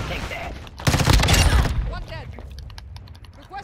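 Gunfire in Call of Duty Modern Warfare II comes as a short, loud burst of rapid automatic shots close by, with voices talking before and after it.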